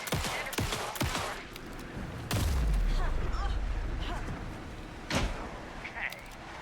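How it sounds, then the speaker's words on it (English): Video game gunfire in Alan Wake II: a few sharp shots, then a heavy booming burst with a low rumble that carries on under raised voices, and one more loud shot near the end. "Anderson, pin him down with gunfire for me to get the light on him"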